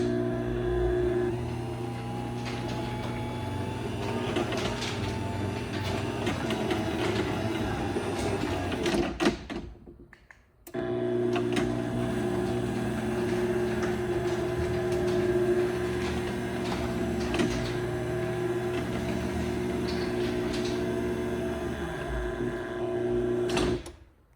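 A LiftMaster 3850 Elite garage door opener with a DC motor drives a 9x7 CHI door, giving a quiet, steady mechanical whir with rattling that stops briefly midway and then resumes for another full run.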